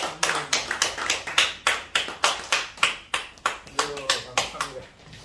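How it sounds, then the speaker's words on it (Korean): Rhythmic group clapping at a church assembly, steady evenly spaced claps from a crowd, fairly close and loud, continuing for several seconds before tapering at the end. "박수를 영광드립니다."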